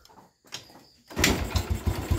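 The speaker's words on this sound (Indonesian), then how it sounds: "Sekali pancal langsung jereng dan langsamnya juga enak." Yamaha Mio motorcycle fitted with a PE carburetor, kick-started once and catching at once, settling into a loud, close, steady idle with a pulsing putter.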